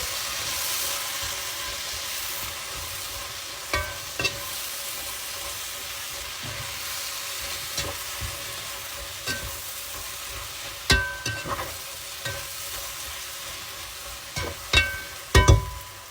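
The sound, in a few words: vegetables being stirred and fried in a pan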